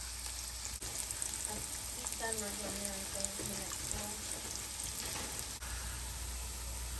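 Vegetables fry in a pan for Three Sisters soup, a soft steady sizzle at moderate distance with a few faint utensil taps and a brief tonal sound partway through.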